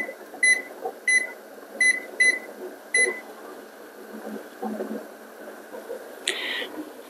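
A kitchen timer being set for water-bath canning apple cider gives a run of short, sharp electronic beeps in an irregular rhythm, some in quick pairs, over a low hum, followed by a brief higher chirp.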